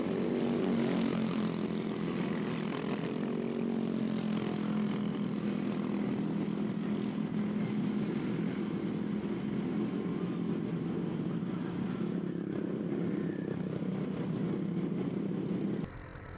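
Small racing karts in a midget kart race pass the start-finish line on the first lap, a loud buzzing engine drone that swells and sustains for many seconds with shifting pitch, close to the track and without talk.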